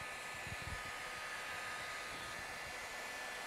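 A hot-air heat gun blows steadily across the ridge of a dent in a metal vehicle panel, giving a constant broad whooshing roar at low level with no talking.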